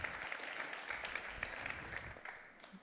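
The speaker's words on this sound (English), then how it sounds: "Please give him a warm applause." An audience applauds steadily, a dense patter of many hands clapping at moderate distance for a few seconds.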